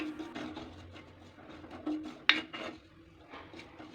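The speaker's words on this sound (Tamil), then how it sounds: "தேங்காய் சட்டியோட எல்லா பக்கமும் படுற மாதிரி பரவலாக வறுத்து விட்டுக்கணுங்க" Grated coconut being stirred and roasted in a new clay pot, a dry scraping and rubbing with repeated strokes, one sharp clink partway through, close and moderately loud with no talk.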